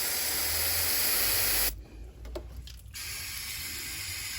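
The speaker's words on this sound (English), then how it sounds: "So we give all that a wash down with a brake cleaner" Brake cleaner sprayed onto the front brake parts of a Honda Jazz during a brake pad replacement, a steady loud aerosol hiss running throughout with a short break in the middle.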